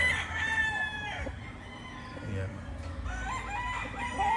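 A Lugon gamefowl rooster crows twice, the first call clear at the opening and a second rising near the end, fairly close over a quiet outdoor background with faint low rumble.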